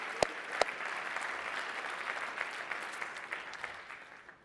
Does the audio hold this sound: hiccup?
no